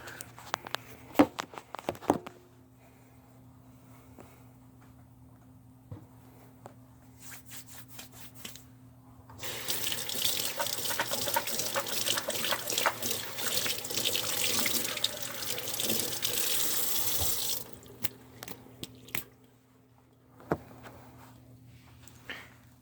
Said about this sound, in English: let's start with a good hand wash